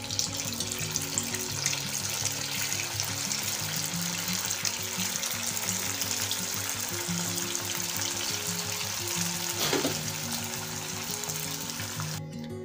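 Sabudana vadas with red chilli deep-frying in oil, a steady loud bubbling sizzle throughout with a tonal hum underneath and a brief scrape near the end.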